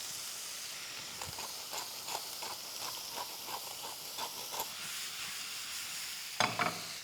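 Chicken bulgogi stir-frying in a pan: a steady, soft sizzle and hiss with rhythmic scraping and stirring strokes, ending in a louder clatter near the close, with no talk.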